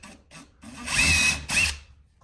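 Power drill boring pilot holes during a TV outlet relocation, with two short bursts followed by a longer whining run and one more burst, loud and close.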